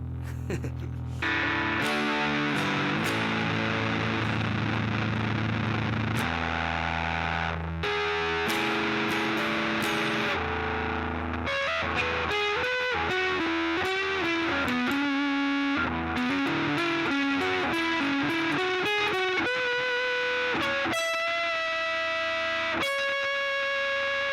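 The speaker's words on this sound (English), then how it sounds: "Let's go ahead and push the distortion up to 3 o'clock." Heavily distorted electric guitar through a distortion pedal set to about 3 o'clock, playing chords, then sustained single notes and bends, loud and thick with a fuzzy, saturated tone throughout.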